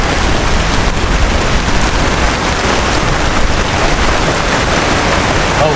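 Heavy rain pours steadily at a campsite at the foot of a hill in Batang Kali, a dense, loud, unbroken hiss with no pauses.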